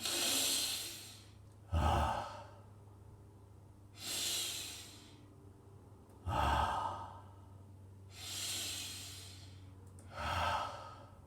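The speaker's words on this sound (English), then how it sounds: "Just breathe. Take a deep breath." Slow, deep breaths drawn in and let out, about three full cycles of airy inhales followed by heavier, sighing exhales, close and clear with no talking.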